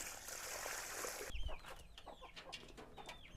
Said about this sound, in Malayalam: നമ്മുടെ കോഴികളെ വിടാൻ വേണ്ടിയിട്ട് സമയമായിക്കണം